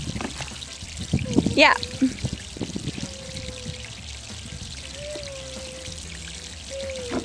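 Water is poured over a farm animal to wash it, a soft splashing and trickling burst near the start that settles into a light, steady dribble, with people talking over it.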